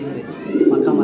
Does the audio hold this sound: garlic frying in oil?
no